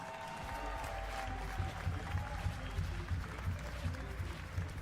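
Crowd applause and cheering in a packed Tallinn, Estonia event hall, welcoming an MC from Brooklyn, New York; steady dense clapping with rising cheers throughout, and a faint voice underneath.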